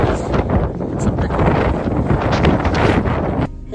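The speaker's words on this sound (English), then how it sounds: "It's very windy." Strong wind buffets an outdoor microphone in loud, continuous rumbling gusts that drop away briefly near the end.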